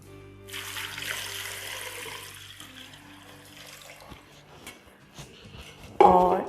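Water is poured into a pot of beef with salt for nihari broth, a faint trickling and splashing that builds into a louder gush at the end.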